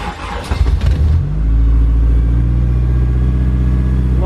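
A K-swapped Mazda FD RX7 engine sputters and revs unevenly at first, then settles into a loud, steady high idle near 1800 RPM, close up with a deep sustained drone.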